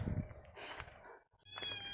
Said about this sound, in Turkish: Bir de arka tarafta kedim var.